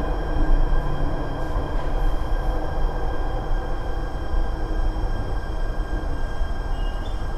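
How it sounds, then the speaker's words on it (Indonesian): A Jakarta MRT train runs steadily on rails with a loud, continuous rumble and faint high squeals from the wheels, heard from inside the carriage. "kalau MRT itu kan ciri khasnya bunyi ya, tak tak tak tak"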